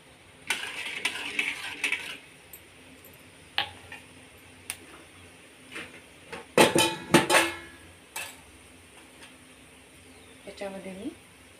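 Corn kernels for popcorn rattle in a pan at home, heard as scattered light clicks and clinks with a dense burst of rattling midway. A brief voice follows near the end.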